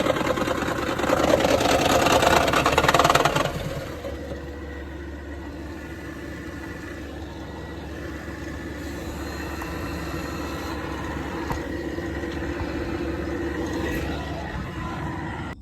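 A Toyota Prius with a fault making noise inside the car runs with a steady engine hum, louder and rougher for the first few seconds, then settling to a quieter continuous drone with no talking.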